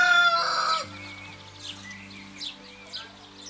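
A rooster crows loudly at close range, followed by several quieter hen clucks and bird calls scattered over a low steady background hum.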